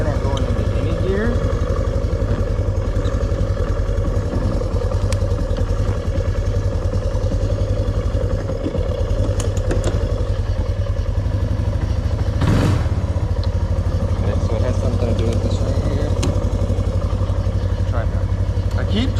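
A cheap four-wheeler ATV engine runs steadily at close range while the machine will not go into gear, a loud continuous drone with clattering knocks and one sharp burst partway through, under frequent talk.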